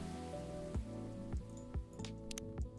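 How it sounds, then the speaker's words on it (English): Steady rain falls in the Coffee Talk video game, a continuous soft patter under background music with a few brief louder taps and chimes, no one speaking. "Oh, the rain stopped"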